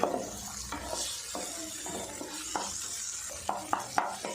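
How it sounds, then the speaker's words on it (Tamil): Capsicum and green peas being stirred in a pan for a lunch-box rice dish, with a steady soft sizzle and several sharp scrapes and clinks of the spoon against the pan, close and clear, no talking. "அரை கப் அளவுக்கு பச்சை பட்டாணி அதை இதில் சேர்த்துக்கலாம் சேர்த்துட்டு நல்லா மிக்ஸ் பண்ணி விட்டுருங்க"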